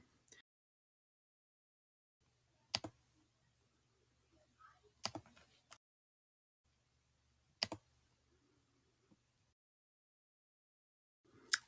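Sparse computer mouse clicks and a few light keyboard taps, isolated sharp ticks spaced several seconds apart, close and quiet in an otherwise silent room.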